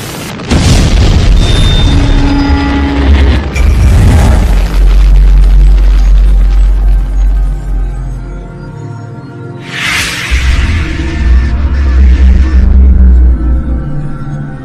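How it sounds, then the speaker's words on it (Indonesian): A long, loud, rumbling explosion roars and booms for over a dozen seconds, with heavy low rumble and bursts of crackling blasts near the end. "terus meledak."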